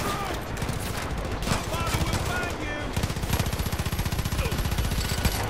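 Video game gunfire from hip-fire shooting in Far Cry 5: a loud, continuous automatic burst of rapid rattling shots that runs through the whole stretch, layered over game sound with no talking.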